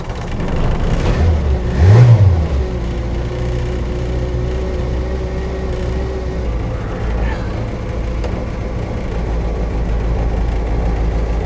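An ex-PTT Renault 4L that has sat unused for a while cranks and catches with a loud burst at about two seconds, then settles into a steady, close idling hum that runs to the end.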